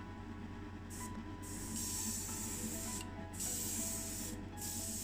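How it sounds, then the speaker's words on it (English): Spray paint in X23 clear blue hisses onto a Matchbox 1987 SAAB 9000 Turbo model car, several close bursts of spraying separated by short pauses over a steady low background hum. "let this dry for a few minutes and then put on the X23 clear blue"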